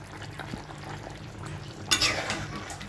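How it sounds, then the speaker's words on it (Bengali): A spoon stirs beef curry with small potatoes in a pot just after roasted cumin powder goes in, giving soft repeated scraping and clinks with a faint sizzle, and one louder scrape near the end. "জিরার ফাঁকিটা দিয়ে আমি একটু ভালোভাবে মিশিয়ে নেব"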